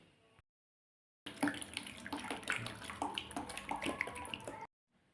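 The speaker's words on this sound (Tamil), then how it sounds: "எல்லாம் கொஞ்சம் கொஞ்சமாக அப்படியே ஊற்றிட்டேன்" Liquid poured steadily into a mixture for homemade dishwashing gel, a continuous splashing, gurgling pour lasting a few seconds between quiet gaps.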